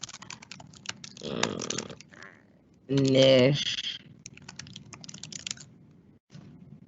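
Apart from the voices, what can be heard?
fast typing on a computer keyboard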